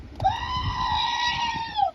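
A single long, wavering goat bleat, loud and close, held for well over a second above a low rumble of background noise.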